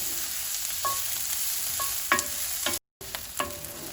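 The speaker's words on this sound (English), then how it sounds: "now we just want to cook the onions and sausage together until they're caramelized" Onions and sausage frying over medium heat in a pan, a steady close sizzle broken by several sharp scrapes and clacks of stirring, with a brief dropout near the end.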